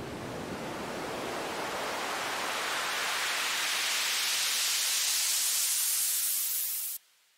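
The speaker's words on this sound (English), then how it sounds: "we have basic noise sweeps and filter sweeps and stuff like that" A noise sweep preset from the BOOM Library LiftFX plugin rises steadily from a low, dark rush into a bright hiss, holding loud and full before cutting off sharply near the end.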